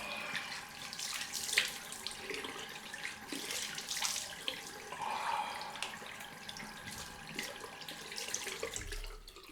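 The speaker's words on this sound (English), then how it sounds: "Right, cold rinse time." Cold tap water runs steadily into a bathroom sink for a rinse after a straight-razor shave, a continuous hiss and splash at close range with small shifts in flow and no talking.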